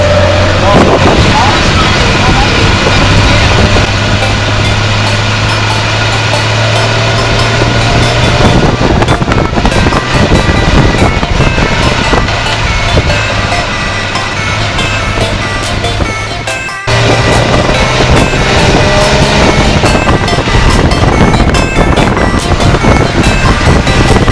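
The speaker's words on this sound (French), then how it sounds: "Les tuk-tuk sont une sorte de scooter attelé à une remorque." A tuk-tuk in Laos, a motor scooter hitched to a passenger trailer, drives with a loud, steady engine drone and a low humming tone, buffeted throughout by wind noise.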